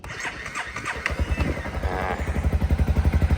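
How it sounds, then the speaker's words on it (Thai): A 2019 Honda CB300R motorcycle engine cranks and fires up, then settles into a close, loud idle with a regular low thumping pulse, with no voices over it. "มา สตาร์ท ฟังเสียงเครื่องยนต์กันนะครับ"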